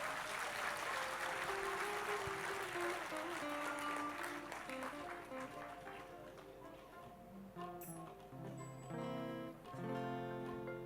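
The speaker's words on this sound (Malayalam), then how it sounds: "അവർക്കൊരു നീണ്ട കയ്യടി നിങ്ങൾ കൊടുക്കണം." An audience at a Kalasadan honorary membership event applauds the musicians with sustained clapping that gradually thins and fades, giving way to instrumental music toward the end.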